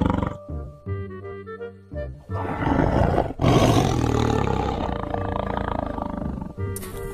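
A tiger roars in the video game Jurassic World Evolution, a loud, rumbling roar that swells and then fades over several seconds, with bright game music tones before and after it.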